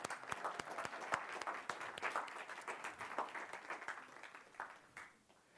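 An audience at a keynote address claps for a volunteer called down from the back, steady crowd applause of moderate loudness with distinct individual claps, tapering off at the end.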